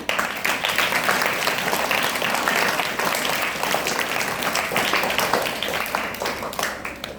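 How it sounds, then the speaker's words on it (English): An audience at a school inter-house English story narration competition claps steadily throughout, a dense, even wave of applause that holds at full strength without pause. "A big applause for Pascal House and their wonderful storytelling."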